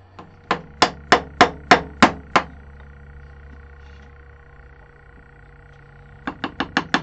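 Sharp wooden knocks as a mallet or hammer taps a turned, textured and coloured wooden pot free on the lathe: a quick run of seven close, loud strikes, a pause, then five more.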